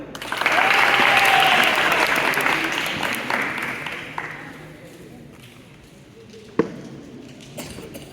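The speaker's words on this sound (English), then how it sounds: "please clap for yourself" A crowd claps loudly for several seconds at a Teacher's Day celebration, the applause gradually thinning and fading, followed by a single sharp knock and faint stray claps.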